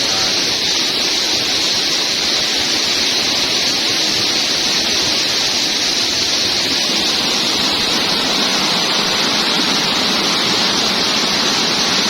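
A waterfall drops from a cliff about 8 meters high at Kedung Bowo, a steady loud broadband roar of falling water with no pauses, heard alone and close throughout.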